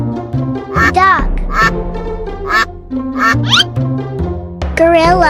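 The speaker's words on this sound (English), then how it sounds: "Duck." Cartoon duck quacking in repeated bright, nasal bursts over a steady bouncy musical backing, loud and close throughout.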